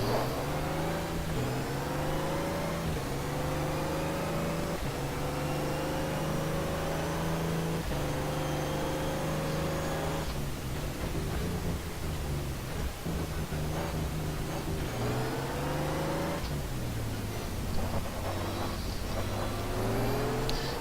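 A simulated racing car engine in iRacing revs steadily through the gears, its pitch climbing and dropping at each shift, a continuous close drone with no talking.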